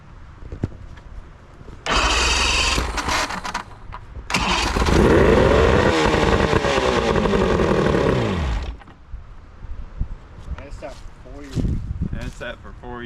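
The old engine of a $500 boat that sat unused for four years fires up in two loud, rough running bursts, then cuts out, leaving quieter handling noises and voices around it.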